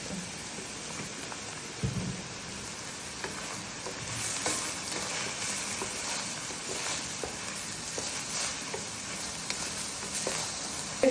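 Food frying in a little corn oil with onion in a pan, a steady dense sizzle throughout with occasional stirring clinks, close and fairly loud, no talking.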